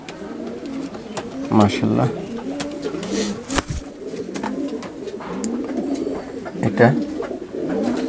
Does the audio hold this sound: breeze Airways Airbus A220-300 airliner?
no